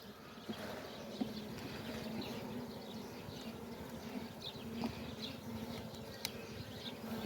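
Honeybees swarming at an open hive frame, a dense steady buzzing hum from many insects close by, with occasional faint knocks, no talk.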